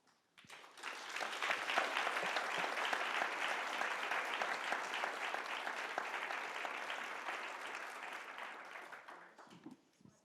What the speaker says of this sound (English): give a little round of applause to the fantastic panelists